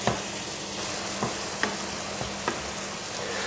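Steady sizzling of lamb mince with tomato sauce in a frying pan, with a few soft scrapes and taps as it is stirred, close and continuous.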